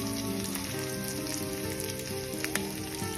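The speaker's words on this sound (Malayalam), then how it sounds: "ഇനി ഇതെല്ലാം ഒന്ന് വഴറ്റി വെക്കാം." Onion, red chilli, green chilli and garlic sauté in a pan for peanut chutney, giving a steady, close sizzle with crackling pops and occasional scraping stirs.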